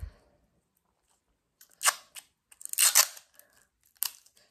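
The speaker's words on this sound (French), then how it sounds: "j'ai trouvé un rouleau de scotch. Donc ça, c'est pour bien maintenir les deux tubes ensemble." Adhesive tape pulled off a roll in several short ripping bursts, used to bind two tubes together; quiet and close, with silent gaps between pulls and no talking.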